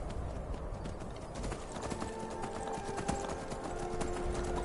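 Hooves clip-clop steadily on the ground as a horse moves in the video game Skyrim, a close, regular rhythm of hoof strikes mixed with game ambience for a few seconds.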